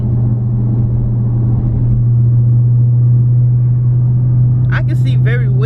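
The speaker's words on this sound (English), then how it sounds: "Driving at night." A car driving at night, heard from inside as a steady low engine hum and road rumble throughout, with a brief burst of speech near the end.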